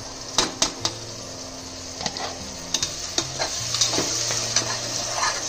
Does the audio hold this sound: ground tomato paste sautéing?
yes